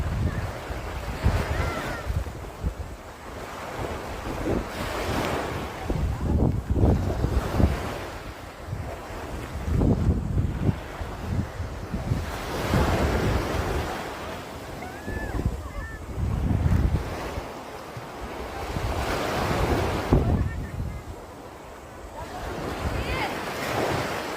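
Waves wash and break in repeated surges, loud and close, with gusting wind buffeting the microphone throughout.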